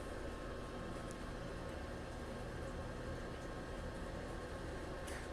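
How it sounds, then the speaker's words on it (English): The fan in a Twin Eagles pellet grill runs as a faint, steady whir with broadband airflow hiss, constant from start to finish. "So now you can hear it getting back up to that temp, that fan kicking in."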